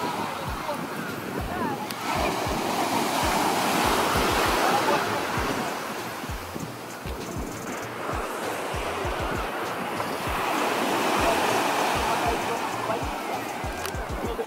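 Sea waves wash steadily onto a Mediterranean beach at Side, Turkey, a continuous rushing surf with gentle swells, with wind noise over it.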